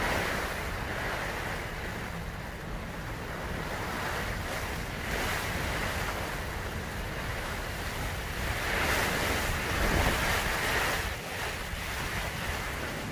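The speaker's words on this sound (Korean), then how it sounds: "바람도 심하게 불고" Strong wind roars steadily across an exposed high mountain ridge above highland cabbage fields at Taebaek, a broad continuous rushing with gusts that swell louder around the middle and end, no voices.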